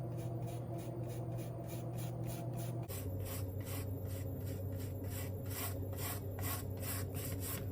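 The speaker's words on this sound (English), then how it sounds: "let's go ahead and give this a coat of paint about halfway down. I think I'll go with the grain." A paintbrush strokes paint along the grain of wood in a steady rhythm of close, scratchy brushing, several strokes per second, continuous for several seconds with no talk.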